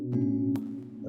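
A soft, sustained synth pad from the Nexus plugin, a preset called Sign Pad, playing within an amapiano production; a quiet held tone with a brief bright accent midway, alone with no voices.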